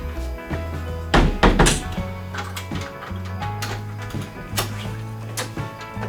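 Several dull thunks and knocks from a door being shut at a lodging, scattered over a few seconds over a low steady hum, fairly close.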